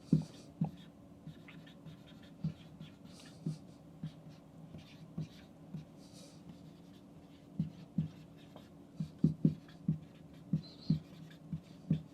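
A pen writes on paper close up, with quiet scratching strokes punctuated by soft taps at irregular intervals, faint and alone without talk.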